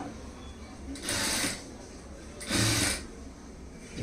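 Sewing machine stitching fabric for a lined blouse, two short bursts of steady whirring of about half a second each, close and moderately loud, separated by quieter room tone.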